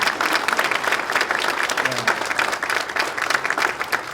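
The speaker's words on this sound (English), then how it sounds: "let's give the panel a round of applause because they were amazing" An audience at a panel discussion event applauds the panel: a loud, sustained round of clapping with a busy, crackling texture and a faint murmur of crowd beneath it.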